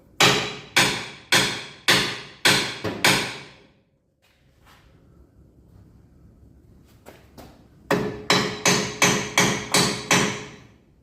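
A hammer strikes hard metal in two quick, even bursts of about six ringing blows each during a gearbox replacement, separated by a few seconds of low background noise.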